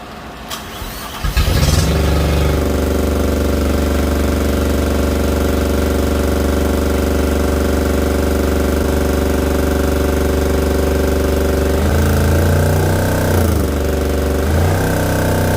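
A Fischer Panda generator engine cranks and catches after about a second, then runs loud and steady, with a few brief shifts in its drone later on.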